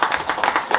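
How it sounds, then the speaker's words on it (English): A boxing press conference crowd claps steadily in a brief, close burst of applause, with rhythmic hand claps repeating several times in under a second. "I want to, give them a round of applause"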